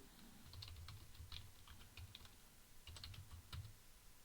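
Text being typed on a computer keyboard into a LibreOffice Writer document. Quiet, irregular bursts of key clicks run through the whole stretch, close by, with no speech.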